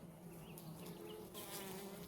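Steady, close buzzing of honeybees at an open nucleus hive fills the whole clip, a continuous droning hum with no pauses.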